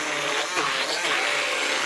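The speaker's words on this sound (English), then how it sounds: "we're going to use this hand mixer" An electric hand mixer runs steadily in a home kitchen while butter is mixed in, a continuous close whirring hum with no talking over it.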